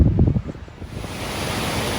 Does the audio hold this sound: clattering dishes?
no